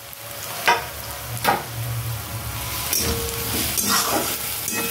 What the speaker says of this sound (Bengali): রসুনটাও ভেজে নেবো একটু এর সাথে